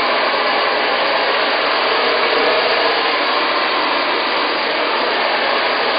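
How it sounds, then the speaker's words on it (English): Hair dryer blowing steadily on a man's styled hair, a loud, continuous airy roar that holds constant throughout with no speech. "I'm going to dry it off just to create some volume and shape throughout"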